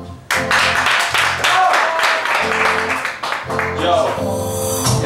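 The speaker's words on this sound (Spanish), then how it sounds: "Un aplauso para todas las mujeres aquí en el estudio" Studio audience applauding on a live television variety show honoring women, a dense, loud wash of clapping mixed with cheering voices and background music that carries on throughout.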